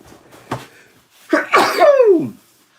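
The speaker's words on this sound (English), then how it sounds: "I've got a sneeze coming up." A single loud sneeze from a person with a cold, with a short wind-up breath, then a sharp burst trailing into a falling, nasal tail, close to the listener.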